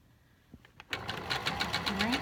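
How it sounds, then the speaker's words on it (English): Domestic sewing machine stitching a coat hood, starting after a few soft clicks and then running in a steady, close, rhythmic chatter of fast repeated stitches that continues to the end, with a brief voice near the close. "I'm going to keep sewing"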